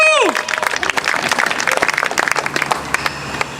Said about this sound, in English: big round of applause for Aaron Regenberg